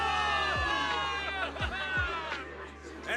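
In the video game Zenless Zone Zero, a large crowd of soldiers cheers for victory, with a dense wash of shouting voices and rising calls that hold steadily throughout.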